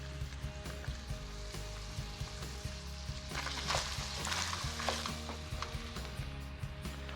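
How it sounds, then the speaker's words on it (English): Salted cauliflower florets fry with browned beef in a pan, giving a steady, soft sizzle throughout with a brief burst of louder crackling and stirring partway through. "Let's let this cauliflower cook for a few minutes until it's nice and soft but still retains its texture."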